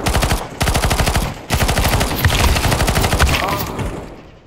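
Rapid automatic gunfire in a Counter-Strike 2 deathmatch on Dust 2 rattles out loud and close in long sustained bursts with brief pauses, then tails off at the end.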